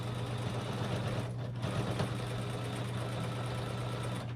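A sewing machine runs steadily at the edge of a T-shirt quilt as it stitches down the binding, a continuous close mechanical hum and whir with no pauses and no talking.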